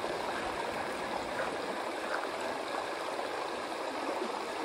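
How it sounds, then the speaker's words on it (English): A river tumbles steadily just before Crabtree Meadows on the Pacific Crest Trail, a broad continuous rush of flowing water close by, with no voices over it. "here we are at the river right before Crabtree Meadows"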